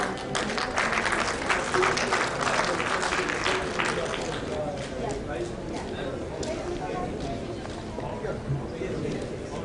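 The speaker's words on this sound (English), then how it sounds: "Please give them a big round of applause." Audience applause at a China–Pakistan space science and technology cooperation celebration ceremony, sustained dense clapping filling the hall for the whole stretch, slightly easing toward the end.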